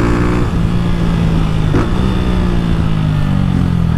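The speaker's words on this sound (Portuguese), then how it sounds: "a moto embala rápido demais" A Honda Start 160 motorcycle, modified with a 16-tooth front sprocket and altered cam, revs from close by with a loud, continuous engine drone that rises steadily in pitch as it accelerates.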